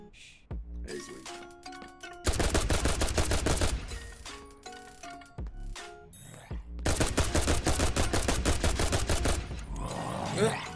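Rapid automatic gunfire in a zombie video game, loud sustained bursts broken by short gaps with electronic pings and dings between them.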